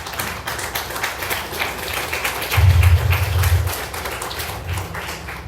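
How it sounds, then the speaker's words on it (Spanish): A church congregation clapping as an offering of praise, a steady patter of many hands with a low-pitched boom briefly swelling underneath midway, continuing at an even level. "Dele una ofrenda de palmas al Señor."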